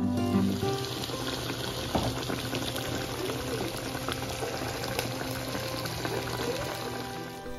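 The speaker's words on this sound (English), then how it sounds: "Add in the potatoes and mix it around. You want to add in 1 cup of water and cover and let this cook" Beef curry with potatoes and a cup of water cooks covered in a pot, giving a steady close bubbling and sizzling simmer with faint clinks, continuous throughout with no talking.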